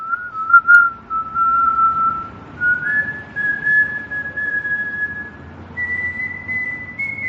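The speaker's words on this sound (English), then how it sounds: "I'm smiling so much I can't whistle properly." A person whistles a slow, wavering tune of long sustained notes that step up in pitch, close and clear, with no talking.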